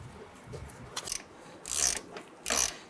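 A ratchet starts the lower brake caliper bolt on a 1994-2004 Ford Mustang, giving a few short bursts of crisp clicking close by, with quiet pauses between and no voices.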